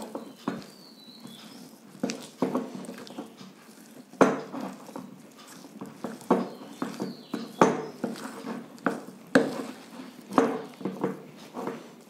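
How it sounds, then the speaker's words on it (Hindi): Besan dough is worked with milk in a bowl, producing an irregular series of close, soft slaps and light clinks against the bowl. "अब हम रूम टेम्परेचर पे लिया हुआ ये दूध धीरे धीरे करके इसमें ऐड करेंगे, अच्छी तरह से मिलाएंगे।"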